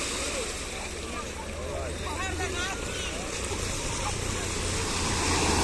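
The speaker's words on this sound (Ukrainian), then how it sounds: "ще велика хвиля" Big sea waves roll and crash on a black sand beach, a loud continuous surf roar with wind buffeting the microphone and a low rumble beneath, while a person talks.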